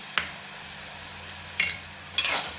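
Onions and green chillies with salt being stirred in a pan, giving a few brief scraping, sizzling bursts over a low steady background hiss; no voices.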